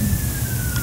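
A siren wails steadily in the background under a loud rumbling ambience, a single sustained tone.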